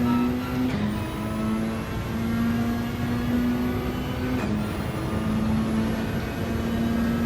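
A GR3 race car engine in Gran Turismo 7 screams at full throttle around Brands Hatch, a steady loud drone broken by two quick upshifts where the pitch drops and climbs again.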